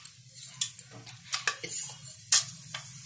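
Whole spices fry in refined oil for a vegetable pulao and a spoon stirs them, giving a soft steady sizzle under sharp metallic scrapes and clinks of the spoon against the pan, close and intermittent.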